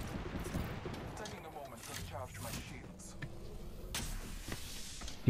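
Rapid gunfire and impacts in Apex Legends, a busy, dense crackle of shots running throughout under an excited voice talking.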